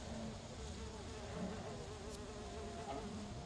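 A steady, dense swarm of bees buzzes continuously from the video game Sudeki, even in level and sustained throughout with no talking.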